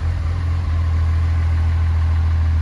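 A 1400HP Cummins diesel engine idles with a deep, steady low rumble, loud and continuous throughout with no voices.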